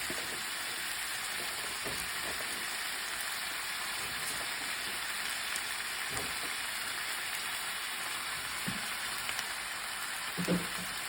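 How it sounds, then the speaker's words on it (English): Chicken wing curry simmering in a pot after potatoes go in, a soft steady bubbling sizzle like light rain, faint and continuous with a few brief louder pops near the end. "I add the potato together so they can cook the same time"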